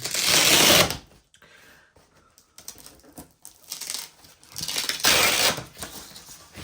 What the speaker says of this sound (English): So you can see it is Velcro strapped here. We're gonna undo these are pretty strong.